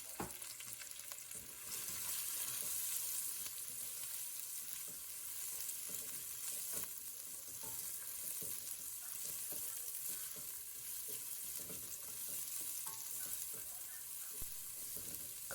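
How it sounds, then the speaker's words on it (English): Vegetables cooking in a pan for South Indian sambar, a steady, moderately loud sizzle and frying hiss that carries on throughout with occasional soft stirring clicks and no talking. "Cook the vegetables until they are nice and tender."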